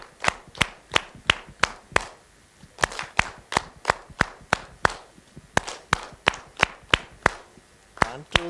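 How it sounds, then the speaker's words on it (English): A group claps in short unison bursts at a conference breakout session, sharp close claps in evenly spaced clusters that shrink from eight toward one, with brief pauses between sets. "So there are 8 claps, okay? 8, 7, 6, 5, like that, up to 1."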